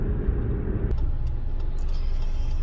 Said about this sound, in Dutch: Zo, is een mooie vrachtwagen. Het is al een DAF